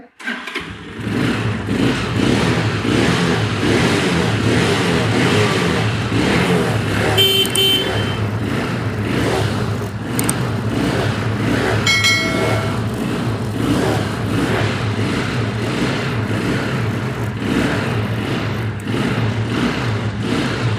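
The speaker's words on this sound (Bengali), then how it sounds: "তো স্টার্ট করে আপনাদের দেখাই" A 125cc self-start motorcycle with a digital meter starts up, then runs at a steady, close idle for about twenty seconds with a couple of faint clicks and no talking.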